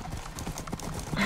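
Horse hooves clip-clop in a quick, uneven rhythm in Minecraft, with a short whinny among the steps, fairly close and filling the whole brief moment.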